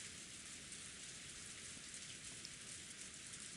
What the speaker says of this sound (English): and there's even a typhoon and rain outside now